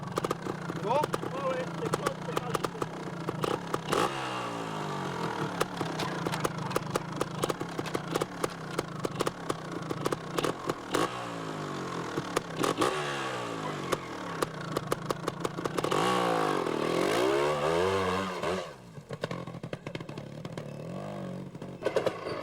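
A Scorpa trial motorcycle, still an experimental machine, ridden at the 1994 Trial World Championship round in Belgium. Its engine idles and revs in repeated rising and falling bursts beneath continuous talk.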